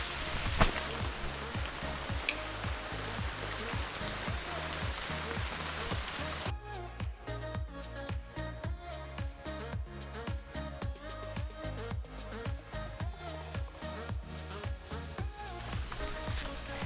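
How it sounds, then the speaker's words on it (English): Rain falls through Caribbean forest vegetation near a large old mango tree on a hillside, a steady wash of drops on leaves, constant and close, with a rhythmic thumping pulse running underneath. "It's still raining."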